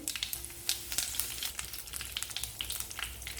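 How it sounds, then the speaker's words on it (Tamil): Mustard seeds and urad dal sputter in hot sesame oil, giving a steady close crackling sizzle with sharp pops scattered throughout, with no voices. "எண்ணெய் நல்லா காஞ்சதும் கடுகு உளுந்து சேர்த்துடலாம்."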